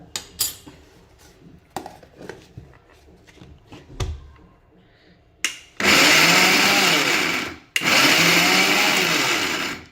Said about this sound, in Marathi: अशा पद्धतीने चालू बंद करून हे दळून घ्यायचं आहे